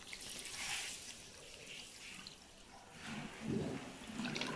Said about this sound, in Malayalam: അതും കൂടി ഒഴിക്കാം.